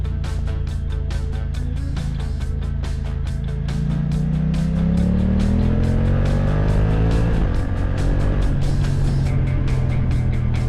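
A BMW F900R motorcycle with a quick shifter is ridden and accelerates hard. The engine note climbs steadily in pitch, jumps at a clutchless upshift, then pulls up again, loud and close with no talk.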